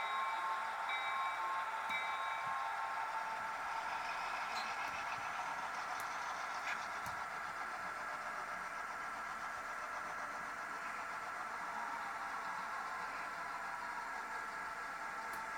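A switching locomotive slowly backing up in a rail yard, a steady low engine drone with faint high whine continuing evenly throughout, no talk.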